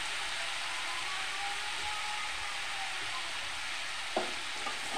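Salted hilsa fish head fries in a pan with a steady, even sizzle, and a single soft knock from stirring comes near the end.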